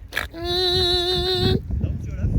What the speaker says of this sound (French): j'ai les cochons qui me rejoignent